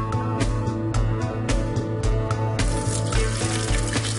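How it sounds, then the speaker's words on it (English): Warm water runs from a kitchen tap as a dozen lemons are rinsed, a steady close gushing splash with repeated knocks and clatters of fruit being turned under the stream. "Rinse well under warm water."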